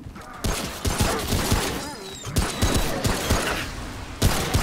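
Gunfire in the co-op shooter Remnant: From the Ashes, rapid bursts of shots and impacts running throughout at close range, mixed with game effects, with no talking over it.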